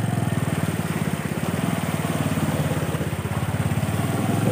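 Motorcycle engine running steadily in gear through a deep water crossing on an off-road ride, a close, continuous throbbing putter at an even pace with no talking.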